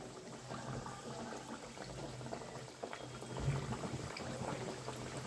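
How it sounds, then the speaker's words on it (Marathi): Samosas deep-fry in hot oil in an iron pan, giving a dense, steady bubbling sizzle that stays even throughout, close and quiet, with no voices. "आता त्यामध्ये आपण एक एक करत समोसे सोडून घेणार आहोत।"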